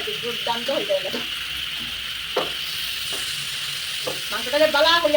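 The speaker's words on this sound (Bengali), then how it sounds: "এটা দশ পনেরো মিনিট বালা টিকে হাই ফ্লেমের মধ্যে এটা ভাজমু মাংসটিরে" Chicken pieces frying in oil and spices over a high flame give a steady, close hiss that runs throughout, with a few stirring scrapes and a voice talking intermittently over it.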